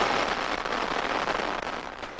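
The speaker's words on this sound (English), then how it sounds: "Firecrackers burst forth amid the deafening drums." Firecrackers bursting amid deafening drums at a Taiwanese village celebration, a dense, continuous crackling roar that fills the whole stretch without letting up.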